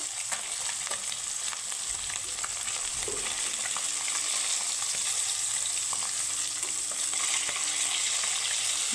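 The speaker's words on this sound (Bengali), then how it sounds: "এখানে আমার বাকি মাছগুলো ভাজা হয়ে গেছে খুব সুন্দরভাবে উল্টে পাল্টে লাল করে আমি ভেজে নিয়েছি" Rohu fish pieces fry in hot oil in a pan, giving a steady, close crackling sizzle with occasional faint scrapes of turning, and no voices throughout.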